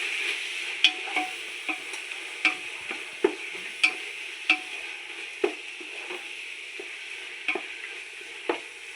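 A mutton biryani masala of tomato, mint leaves and coriander leaves is stirred in a sizzling pan, with a steady frying hiss under repeated sharp scrapes and taps of the spoon at irregular intervals.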